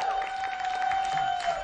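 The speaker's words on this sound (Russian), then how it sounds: "аплодисменты еще раз Дане Борисовой" Studio audience applause for Dana Borisova: a continuous, fairly loud wash of clapping filling the whole short stretch, with a steady tone underneath and no speech.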